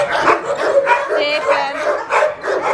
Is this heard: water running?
no